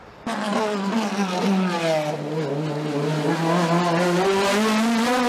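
A race car on the Vuillafans hill climb course accelerates hard out of a hairpin and climbs through the gears, a loud close engine note rising and dropping at each shift.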